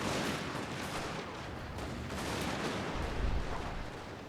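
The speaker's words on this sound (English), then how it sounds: "The accurate fire of Tosa rifle." Tosa riflemen firing rifles during the Boshin War battle at Kōshū-Katsunuma, a dense, continuous roar of gunfire and booming reports with a heavier thump near the end, no voices.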